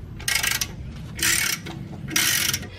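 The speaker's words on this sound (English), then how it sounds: "Now we're going to take off the rear caliper mount with the 18mm." A ratchet wrench loosens 18mm rear brake caliper mount bolts on a 2007 Cadillac Escalade, giving three separate bursts of quick, loud clicking with short pauses between them and no talk.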